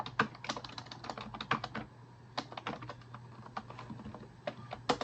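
Quick, irregular clicking of keys on a computer keyboard, typed in short bursts with small pauses, close and fairly quiet with no talking.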